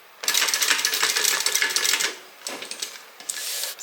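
A sewing machine back stitching a hip bag: a fast, close mechanical clatter of needle strokes running steadily for about two seconds, then shorter bursts after a brief pause, with no voices.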